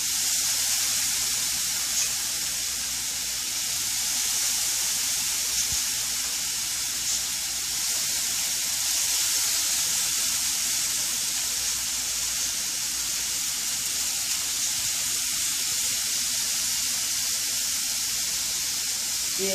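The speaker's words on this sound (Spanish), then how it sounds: "Vamos a poner el bacon." Bacon fries on a hot griddle with a constant, loud, close sizzle and hiss that holds steady throughout, and no one speaks over it.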